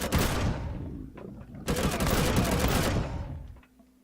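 Xerax enemies open fire in the space survival game Empyrion, with dense bursts of rapid gunshots, a pause, then a second sustained volley that fades to a low hum.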